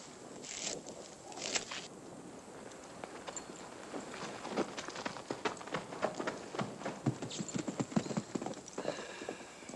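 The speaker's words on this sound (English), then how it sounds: "get on your horse and ride back to town and tell Slack it didn't work." Horse hooves clip-clopping steadily on hard ground, a brisk, uneven patter that carries on for several seconds at moderate distance.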